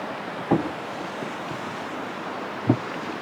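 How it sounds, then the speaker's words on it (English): Steady broadband rush of open water and wind while floating downstream on a river in Washington State, with two brief soft knocks or splashes standing out against the continuous wash. "Making our way down the river."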